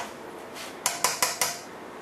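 A spoon is fetched from among the cutlery, giving four quick, bright metallic clinks in a row after a soft rustle, close and with no speech.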